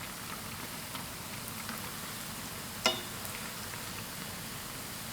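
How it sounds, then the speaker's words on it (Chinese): Sugar cakes (tanggao) deep-frying in oil over medium heat give a steady, soft bubbling sizzle throughout, with one brief clack partway through. "保持中火慢炸，防止一下炸糊。"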